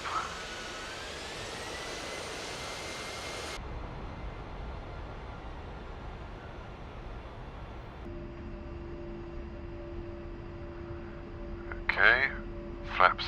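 Aircraft engine in a flight video game during takeoff, a steady broadband roar that changes character in stages, with a sustained tone joining later and a few short electronic beeps near the end.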